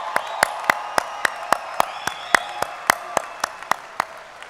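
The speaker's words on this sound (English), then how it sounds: "Please give them a very loud cheer and applause." At a university health sciences commencement ceremony, a single pair of hands claps sharply in a steady, regular rhythm, about four claps a second, standing out close over a quiet room with a faint crowd behind.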